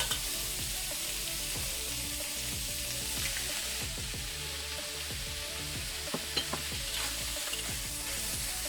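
Sausages and peppers sizzle loudly together in a pan, a dense continuous crackle and spatter, close up, with a few brighter pops toward the end and no voices.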